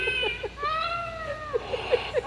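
A Halloween animatronic cat decoration gives a drawn-out electronic meow, a fairly loud, wavering cry with pitch bends and short chirps, heard in a store setting with faint background chatter.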